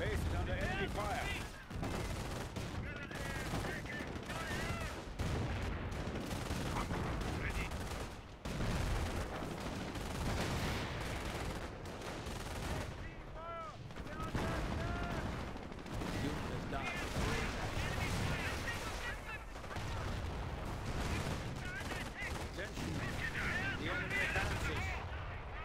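Gunfire and artillery blasts fill a D-Day battle video game, with dense rapid shots and booms rolling on without pause, loud and constant, while game voices call out over the fighting.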